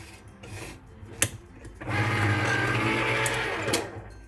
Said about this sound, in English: I struggle with this stupid electric can opener every time